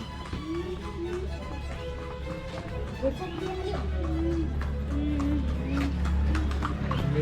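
Horse hooves clip-clopping in an irregular rhythm under a man's speech, with a low steady rumble in the background.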